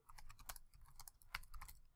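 Quick, steady clatter of typing on a computer keyboard, close and fairly quiet, keystrokes in rapid bursts with brief pauses.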